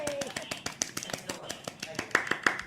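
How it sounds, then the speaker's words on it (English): Hands clap in a quick, steady rhythm over a livestream with latency, the sharp claps repeating close and loud about every fifth of a second while a voice speaks underneath. "I can clap and it sounds like a big, very big, like a huge crowd"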